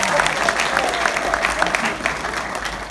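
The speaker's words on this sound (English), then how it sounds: "we want to give a big round of applause for Luke Campbell." An audience at an R&B hall of fame event in Houston gives a round of applause for Luke Campbell, with steady crowd clapping, a few louder individual claps, and some voices underneath.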